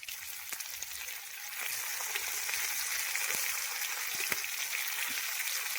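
Chicken tikka frying in a pan in a village kitchen, a loud, steady, hissing sizzle with occasional small pops and crackles, close and continuous without talk.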